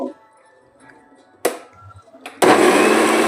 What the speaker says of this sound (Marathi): थोडी कोथिंबीर घालून छान आता त्याला मिक्सर मधून आपण काढून घेऊ